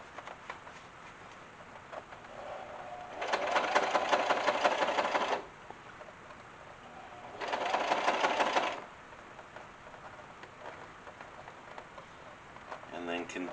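Sewing machine stitching two pieces of leather together, two close mechanical runs of about two and a half and one and a half seconds with a quiet pause between and a faint room background.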